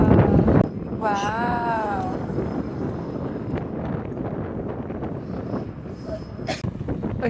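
Strong gusts buffet the microphone outdoors, a heavy low rumbling roar that swells and dips throughout, with a voice and other talk breaking through at moments.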